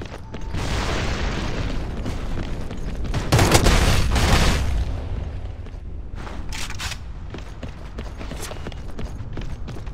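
A grenade goes off in an online first-person shooter, one loud booming blast with a long rumbling tail, amid scattered gunfire and game effects.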